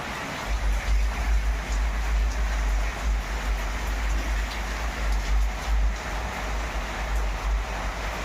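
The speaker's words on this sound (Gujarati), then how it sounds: "એટલો સરસ વરસાદ પડે છે" Heavy rain falls at six in the morning in cool weather, making a steady rushing hiss over a deep, gusty low rumble, with no one speaking.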